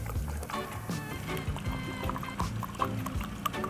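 Potassium lawn supplement is poured into a hose-end sprayer half filled with water, giving close, quiet glugging and trickling with small irregular splashes for a few seconds.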